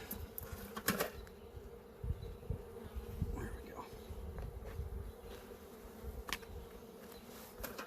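Guard honeybees buzz around a hive being opened for inspection after a package bee installation, a close, wavering drone with individual bees zipping past, while someone speaks briefly.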